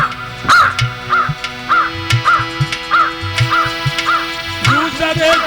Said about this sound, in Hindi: ये कौआ बुरी आवाज कर रहे हैं